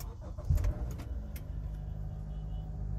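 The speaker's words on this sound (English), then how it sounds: "So car starts." A Honda's engine cranks and catches with a short low thump, then settles into a steady idle hum, close by with no talking.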